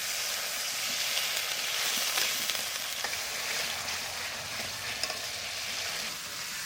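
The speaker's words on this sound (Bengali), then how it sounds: "হলুদ, একটু জল দিয়ে দেবো মশলাটা কষানোর জন্য" Turmeric spice paste with a splash of water fries in a pan, giving a steady, close hiss and crackle that holds throughout with small spatters.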